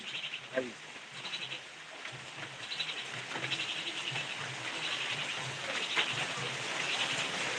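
Rain falls steadily outdoors in Bogura, Bangladesh, a constant close hiss of drops with faint, indistinct voices and an occasional animal-like bleat underneath.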